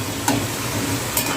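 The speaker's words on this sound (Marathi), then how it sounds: "आणि आपण तेलामध्ये आता फ्राय करून घेऊ." Crispy pakoras fry in hot oil with a close, steady sizzle and a couple of brief sharper crackles.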